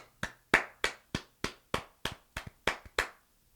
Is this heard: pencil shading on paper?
no